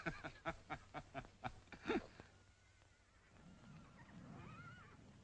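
A horse nicknamed Red Devil, an untamed animal, lets out a loud whinny with a rapid series of rising neigh pulses near the start, then quieter rustling and a softer call trailing off.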